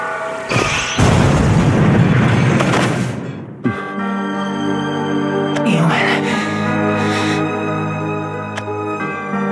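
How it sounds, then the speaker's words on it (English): A loud explosion in the Shadowverse card game: a heavy, echoing boom lasting a few seconds, followed by sustained musical tones and game sound effects. "you covered me from the blast!"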